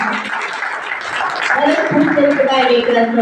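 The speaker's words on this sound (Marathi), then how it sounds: "एक जोरदार टाळ्या द्यावं डॉक्टर वैष्णवीसाठी होता." An audience claps at the inauguration of a women's health workshop, with crowd applause rising and fading while a voice speaks over it.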